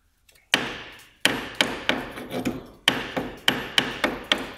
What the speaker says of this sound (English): And then just with a hammer